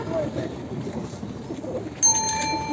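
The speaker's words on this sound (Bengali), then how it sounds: "এই দেখেন বক্সের ভিতরে ভরা কবুতর, আর এগুলো খুব দামি কবুতর, রেসের কবুতর তো" Racing pigeons shut inside a box coo in low, muffled murmurs under faint background voices, and a sharp bell-like ring cuts in near the end.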